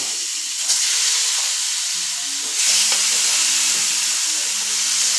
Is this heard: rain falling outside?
no